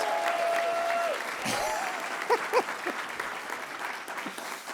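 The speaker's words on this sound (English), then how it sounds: "Can people give John a round of applause?" Audience applause at a university graduation hooding ceremony, steady clapping from a crowd throughout, with a few louder claps and scattered whoops standing out.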